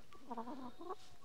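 A Silkie hen clucks softly a couple of times, short throaty notes close by against a quiet background.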